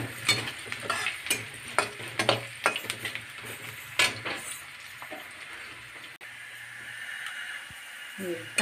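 Sliced onion frying until brown in a pan for an oyster masala, a steady close sizzle with stirring scrapes and a voice talking over it.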